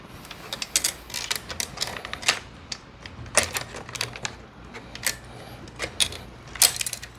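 Chainsaw bar and chain being fitted by hand around the sprocket, with a series of sharp metallic clicks and clacks in irregular bursts, close and fairly quiet, with no talking.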